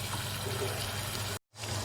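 About half a cup of water pours into a pot of turnip, chicken and spinach curry, a steady splashing gush that cuts off abruptly near the end, then quiet kitchen ambience.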